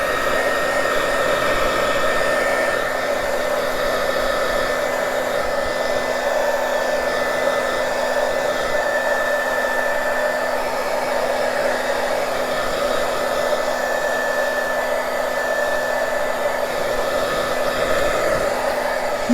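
A heat tool blows steadily over metal-look craft embellishments to dry them, a continuous close whirring drone with a faint high whine, running unbroken and alone for the whole stretch.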